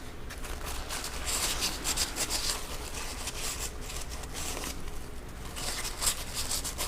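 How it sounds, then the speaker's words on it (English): Circuit traces on a Dodge RAM truck headlight switch are wiped clean with steady, close rubbing strokes, a soft continuous scrubbing hiss with no speech. "Go ahead and wipe off these traces."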